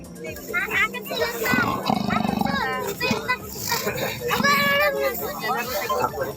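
A captured leopard inside a cage trap near farmland growls in low rumbling bursts, with several people talking and calling out loudly over it.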